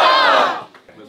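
A crowd shouts "Polska!" together in one loud, brief burst that quickly fades, with a few scattered voices after.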